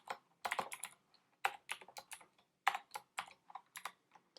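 Computer keyboard being typed on while building a React personal website, quick bursts of close key clicks separated by short pauses, quiet and irregular, with no talk.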